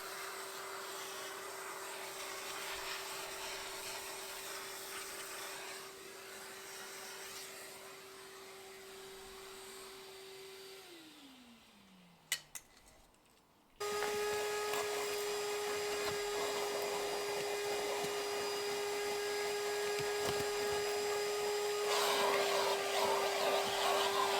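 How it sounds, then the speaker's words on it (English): Steady whine of a vacuum cleaner working over car carpets with a crevice tool during a Jaguar XF interior detail, dipping in pitch and briefly stopping before restarting slightly higher and continuing evenly at close range. "grab a crevice tool and give your carpets a thorough hoover down as well."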